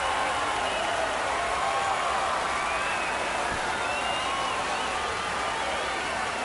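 A baseball crowd at a Dodgers versus Padres spring training game roars and cheers after a game-tying home run, a steady wash of noise held at full volume throughout.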